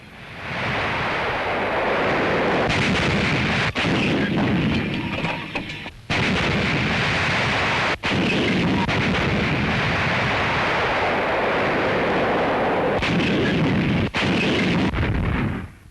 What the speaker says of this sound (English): Then the force opened fire on its targets